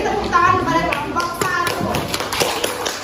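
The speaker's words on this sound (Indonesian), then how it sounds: "beri tepuk tangan kepada kelompok" Students in a classroom clap for a group, a close, uneven burst of hand claps and taps with children's voices mixed in.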